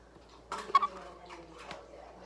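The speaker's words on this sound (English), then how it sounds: "Here's my chicken." A pet hen brought indoors clucks softly nearby, a few short throaty clucks bunched together in a quiet room, with faint voices in the background.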